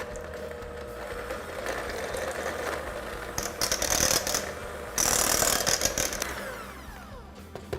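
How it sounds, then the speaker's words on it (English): Electric mixer whipping mashed potatoes in a pot, giving a continuous mechanical whir with rattling and scraping against the pot that grows louder and harsher partway through, no talking. "I'm going to put my electric mixer down into the pot before I turn it on"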